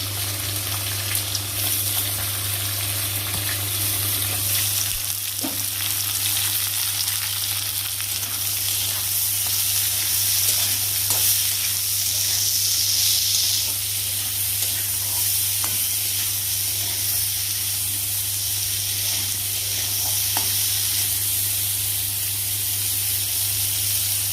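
Potatoes and carrots fry in a pan with a steady, close sizzle and occasional stirring scrapes, continuous and without talk.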